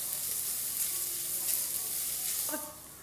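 Onions sauté in a pan for a Kerala-style pepper chicken curry, giving off a steady, close sizzle with a soft stirring scrape near the end.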